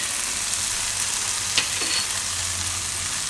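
Tomatoes cooking down in a pan for a tomato broccoli pasta, giving a steady, even sizzle with one faint clink partway through.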